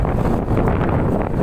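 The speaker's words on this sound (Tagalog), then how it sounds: "Tapos malakas ang hangin." Strong wind roars and buffets steadily on the road to Lemery, Batangas, a loud low rumble with gusty fluctuations, no voices.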